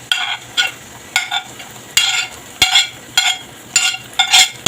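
Chopped onion and a cut green chilli fry with garlic in a pan for dry besan zunka, stirred in a steady rhythm so the sizzle surges in repeated short bursts about twice a second, close and fairly loud.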